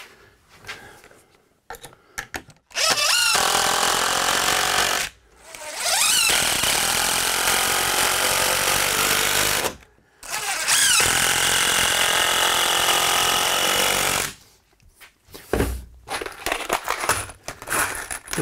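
Power drill driving screws down from the top into a 2x3 on DIY storage shelves, three long loud bursts of whirring separated by short pauses, with quieter handling noises before and after.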